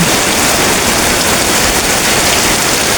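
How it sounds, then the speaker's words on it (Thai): Heavy rain pours steadily with running water flowing along a path, a dense, loud, unbroken hiss with no thunder or wind, and no voices. "บรรยากาศตอนนี้ฝนตกอย่างแรงพี่น้องเอ้ย น้ำไหล"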